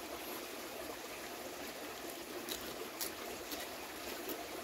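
Mountain spring water trickling and running steadily in a continuous gentle flow, faint and alone with no voices.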